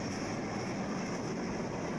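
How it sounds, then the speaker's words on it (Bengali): A Dhaka-bound train departing a station rumbles steadily nearby, a dense low roar of wheels and carriages rolling past without pause. "আসার সাথে সাথেই ঢাকাগামী ট্রেনটি ছেড়ে চলে গেল"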